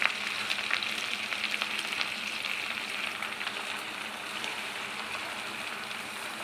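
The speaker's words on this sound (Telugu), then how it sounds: "అదే ప్యాన్లో కొంచెం 1 స్పూన్ ఆయిల్ వేసుకొని గోంగూర అంతా వేసేసుకోవాలండి." Gongura leaves fry in a spoonful of oil in a pan, giving a steady, even sizzling hiss that fades slightly over several seconds, with no voices.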